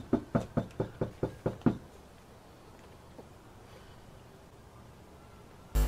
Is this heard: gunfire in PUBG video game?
no